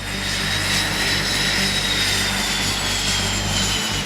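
A military aircraft launches from the deck of a large US aircraft carrier, its engine roaring loud and steady throughout with no pauses or other sounds.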